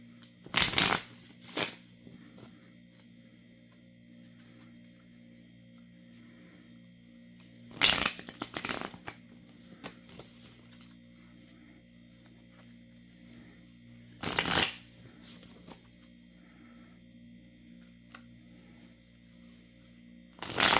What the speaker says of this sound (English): I'm going to go ahead and put this away, and I'm going to pull some more cards